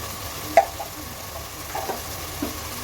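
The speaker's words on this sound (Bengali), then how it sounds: "আদা রসুন অ্যাড করে দিচ্ছি।" Ginger and garlic paste frying in oil with beef for beef tehari, a low steady sizzle broken by a few sharp scrapes of a spoon stirring the pan.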